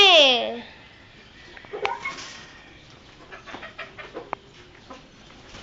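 Chickens in a coop cluck and squawk in short, scattered bursts, starting with one loud call and continuing as busier clucking under a voice.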